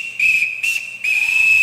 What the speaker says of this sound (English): Everyone in this house answers to a whistle, and I'll show you.